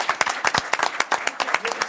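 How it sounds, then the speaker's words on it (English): A city council meeting breaks into a round of applause: dense, steady clapping from a room of people, close and lively, lasting without pause. "All right, let's give a round of applause."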